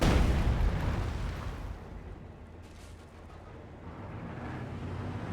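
A demolition charge goes off in a multiplayer strategy video game match, a heavy low boom opening loud and decaying into a long rumbling tail, followed by softer background battle noise.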